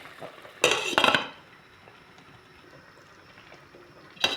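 A metal lid clatters back onto a pot of white pomfret fish soup with pechay, two quick clinks near the start and another at the end over a quiet simmer.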